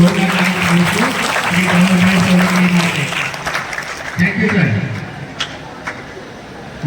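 An audience at an art festival claps for a national-level judge. The applause is dense and carries on under a voice talking, then fades to quieter scattered claps near the end.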